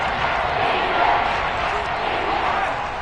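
A stadium crowd in a Madden football video game roars steadily as a big third down approaches, a dense, loud wash of cheering that holds throughout, with commentary voices under it.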